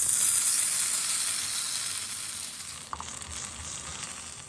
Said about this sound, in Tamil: ஒரு பேனில் எண்ணெயை ஊற்றி பிளெயின் சேமியா தூவிங்கோ.